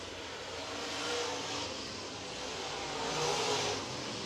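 A late model race car rips around a speedway track during a Thursday night race, its engine a steady roar that swells and fades as it passes at a distance. No voices are heard.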